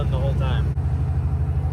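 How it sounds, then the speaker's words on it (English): A cattle truck hauling a big load of cows engages its Jake brakes, giving a loud, steady low engine-braking drone inside the cab, with a brief dip partway through. "If you can hear me over the sound of the Jak Brakes, raise your hand."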